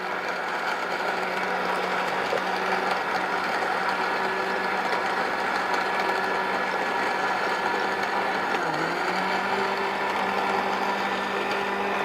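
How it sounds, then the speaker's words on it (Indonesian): An electric blender whirs continuously, pureeing strawberries with about 200 cc of water into a smooth drink, a steady loud motor drone close by with a brief dip in pitch partway through. "Kemudian baru kita blender."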